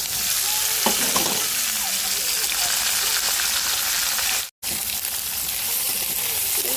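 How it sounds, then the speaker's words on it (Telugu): Onion, green chili and tomato frying in hot oil, a steady loud sizzle with occasional stirring scrapes and a brief dropout midway. "ఉల్లిపాయ, పచ్చిమిర్చి, ఇంకా టమాటా మొత్తం ఆయిల్లో బాగా మగ్గేంత వరకు అయితే తిప్పేసుకున్నాం"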